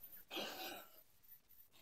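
A single harsh, raspy cough bursts out close by, followed by quieter breathy noise.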